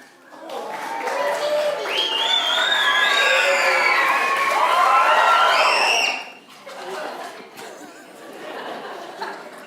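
A crowd cheers and shouts loudly for several seconds, high excited voices and applause swelling together, then dropping off into scattered noise.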